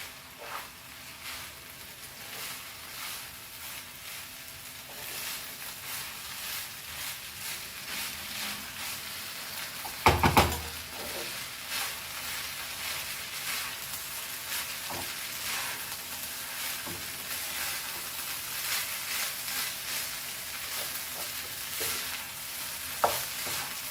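Vegetable fried rice stir-fried in a large wok, a long steady hiss of frying with intermittent spatula scrapes and one loud clattering knock midway, close and without talk.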